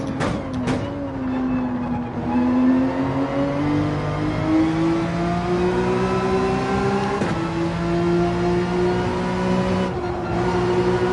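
A race car engine at full throttle around the Nürburgring in Gran Turismo 7, a loud steady high-revving drone that climbs through the gears with brief shift dips, close and continuous.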